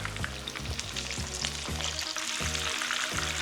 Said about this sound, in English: Now you might gotta fry these in batches because these like some healthy sized pork chops